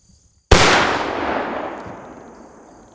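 A single muzzleloader shot fired outdoors: a sharp, loud blast that decays slowly into a long rolling echo.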